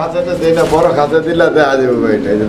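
Close, throaty cooing of a male fancy pigeon in repeated warbling phrases, with a person talking over it.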